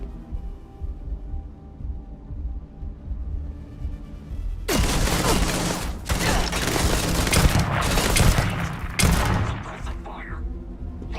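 Sustained bursts of automatic gunfire and booming shots from the space shooter game Starfield erupt after a few quiet seconds, loud and close, with a voice speaking over the firefight.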